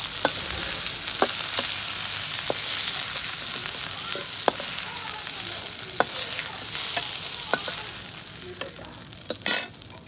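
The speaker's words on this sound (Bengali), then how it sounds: "কাঁচকলাটাও বেশ ভালো করে ভাজা হয়ে গেছে।" Green bananas (raw plantain slices) fry in oil in a pan with turmeric, giving a steady crackling sizzle broken by sharp spatula scrapes and stirring clicks, close and alone with no talk.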